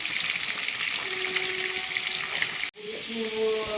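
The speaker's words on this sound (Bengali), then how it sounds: "মা চারটে ডিমকে ভেজে নিচ্ছে এরপর সব সবজিগুলো আস্তে আস্তে ভাজছে" Capsicum, onion and chillies fry with eggs in a pan with a bright, constant crackling sizzle, briefly cut off once before the frying resumes close and steady.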